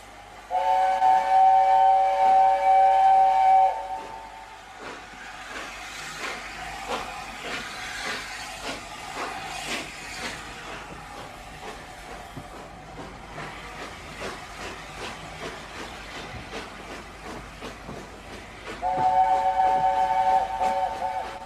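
A steam whistle blows loudly with a steady hissing tone, then a train rumbles and chuffs along, before the whistle sounds again near the end.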